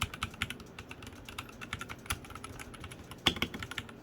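Typing on a Royal Kludge RK61 keyboard, a steady stream of quick, crisp key clicks at close range, with one louder clack near the end and no talking.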